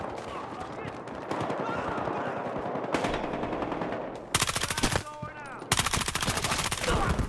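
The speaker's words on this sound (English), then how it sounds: "I shot him in the freaking chest and the head" Gunfire in Battlefield Hardline, rapid automatic bursts ripping out loud and close in two sharp strings after a stretch of background combat noise, with someone talking in places.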